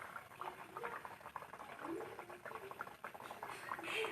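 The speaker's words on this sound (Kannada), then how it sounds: "ನಾನಿವಾಗ ಕರಿಯೋದಕ್ಕೆ ಹಾಕ್ತಾಯಿದ್ದೀನಿ." Kajjaya, an Indian sweet made from dough, fries in hot oil. The oil gives a soft, continuous bubbling and boiling sound, fairly quiet and steady throughout.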